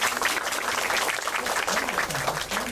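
An audience at a Buddhist dharma talk applauds a girl on stage, loud continuous clapping close by with voices murmuring underneath.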